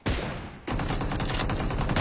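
Rifle fire in a shooter video game, a sharp loud shot followed by a quick burst of rapid shots that rattle on steadily to the end.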